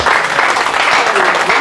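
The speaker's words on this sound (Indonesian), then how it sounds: "Berikan sorak-sorai buat Tuhan." A church congregation cheers and applauds loudly, a dense, continuous burst of clapping and crowd noise mixed with raised voices.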